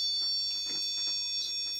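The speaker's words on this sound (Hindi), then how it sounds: "जैसे इसको हमने कनेक्ट कर लिया तो इसके अंदर बीप की साउंड की आवाज़ आ गई" A test meter beeps when a DTH satellite LNB is connected to it: a steady, high electronic tone that holds unbroken through the short moment, fairly loud and near.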